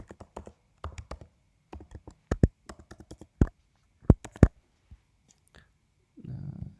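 A password being entered on a computer keyboard: a run of crisp, close key taps in uneven bursts, some sharper strokes standing out, ending with a brief soft rustle.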